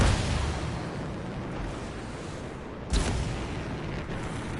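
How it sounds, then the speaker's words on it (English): A contained explosion in the video game Anthem: a sustained, heavy rumbling roar fills the space, with a sharper burst cracking through midway before the low thunder carries on. "It'll be a contained explosion."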